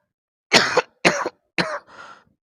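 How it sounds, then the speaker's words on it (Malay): A man gives three sharp, close coughs in quick succession, followed by a softer throat-clearing rasp, with silence between the bursts. "Baru dibilang dah batuk-batuk."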